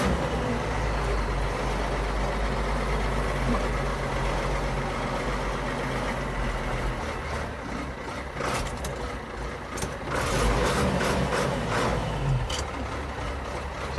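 An old Ford TW tractor diesel engine idles steadily with a deep low rumble, close by and continuous, with a few brief clattering knocks and rises toward the end.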